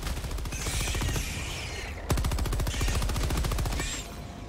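Rapid automatic gunfire in the video game Helldivers, in bursts, loud and continuous, with a sharp blast midway and sustained rattling fire afterward, no talking.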